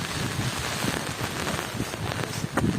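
Steady rain pours on a mountain fort trail at Harihar Fort in Maharashtra, a dense continuous hiss with gusts of wind, close and fairly loud throughout.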